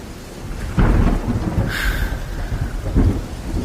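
Thunder-like roars rumble through a Hindi audiobook of the Ramayana, with heavy crashes and rolling booms over a steady hiss like rain. The sounds are loud and close, and no one speaks.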